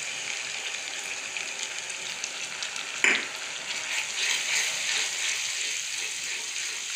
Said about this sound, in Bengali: এবার এই টমেটো বাটা আর লঙ্কা বাটাটা দিয়ে দিচ্ছি।